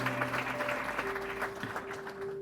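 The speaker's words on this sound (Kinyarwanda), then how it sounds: "reka dukomere Imana amashyi." A church congregation claps together in praise, producing soft, fairly distant applause under sustained tones that sound like instruments.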